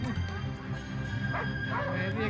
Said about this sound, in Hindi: सर वहाँ कुत्ता क्यों भौंक रहा है?